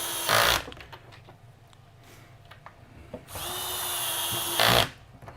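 Power drill driving screws into melamine drawer sides, two short loud bursts separated by a quieter stretch and a longer rising whir, close and sharp with no talk.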